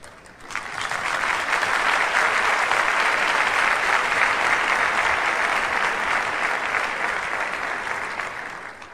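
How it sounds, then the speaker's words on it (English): Loud, sustained applause from a large crowd, rising quickly and continuing steadily for several seconds before fading slightly. "Let's applaud them."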